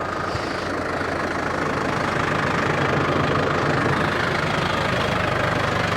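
A lawn mower engine runs steadily at close range, a continuous rough mechanical drone that holds an even level throughout with no talking.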